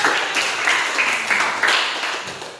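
A classroom of pupils clapping their hands together, a brief burst of dense applause that stays fairly loud throughout and fades slightly toward the end, with no talking over it.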